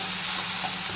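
A steady, loud sizzle of tomato paste sautéing in hot oil, close up and continuous for a brief moment.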